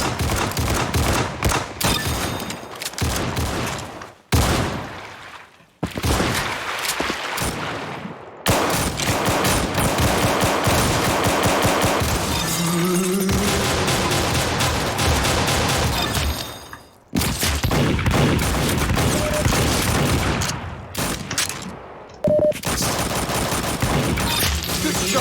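Dense, rapid pistol gunfire from a beach shooting video game, loud and continuous with sustained volleys broken by a few brief pauses.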